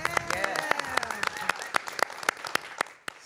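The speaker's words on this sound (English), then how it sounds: "Let's give another round of applause for Miss Mia." Audience applause at a cosmetology hair competition, sharp individual claps ringing out through a hall with voices and cheering underneath at first, then thinning to sparse claps.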